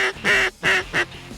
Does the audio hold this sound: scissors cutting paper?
no